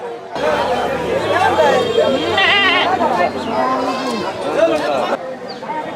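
Small goats bleat at a busy livestock market, several calls rising over constant crowd chatter and bargaining voices, fairly close and loud throughout.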